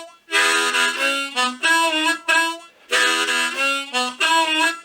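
Diatonic harmonica playing a boogie woogie bass line in a steady four-beat pulse, with draw notes and quick triplet articulations; loud, close and alone, in short repeating phrases.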